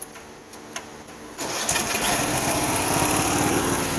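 A riding lawn mower tractor engine, run off a jumper, cranks briefly with a few clicks and then catches, roaring up and settling into a loud, steady idle that continues to the end.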